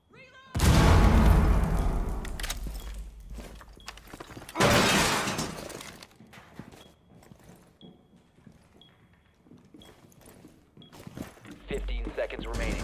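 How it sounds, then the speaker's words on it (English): A frag grenade goes off in the tactical shooter Rainbow Six Siege, two loud crashing bursts with debris and breaking noise, then quieter game ambience and faint beeps. "Throwing frag grenade."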